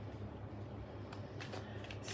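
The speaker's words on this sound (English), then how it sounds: "Give my lovely little deck of cards And a shuffle." A deck of tarot cards being shuffled during a live reading, giving a continuous papery riffling and rustle with a few sharper flicks near the end, close and steady, no speech.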